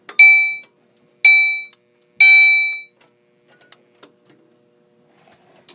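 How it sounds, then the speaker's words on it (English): Three loud electronic beeps from an alarm system set up with a chime, each a clear tone about a second apart, then faint clicks and near silence. "And the beeping there, I just did that for the fun of it"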